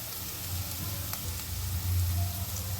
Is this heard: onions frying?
yes